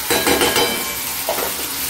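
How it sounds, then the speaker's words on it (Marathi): Onion and tomato sizzle as they fry in a pan, with a stirring utensil scraping and clinking against the metal in short bursts over a steady hiss, close and alone. "कांदा टोमॅटो आपण ऑलरेडी फ्राय करून घेतलेला आहे मिक्सर म्हणून काढायसाठी, त्यामुळे त्याला फ्राय व्हायला जास्त वेळ लागणार नाही."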